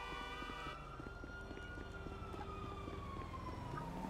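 A police siren from the Grand Theft Auto V video game wails in steady rising and falling sweeps. It sounds fairly faint, with game engine and traffic noise underneath.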